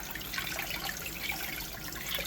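Water from a kitchen tap runs steadily while homemade butter is rinsed, a soft, continuous hissing splash at low level with no talking.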